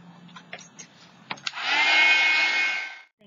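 A few soft taps and handling clicks, then a heat dryer whirs on close by for about a second and a half, drying paint on an altered children's book page before cutting off.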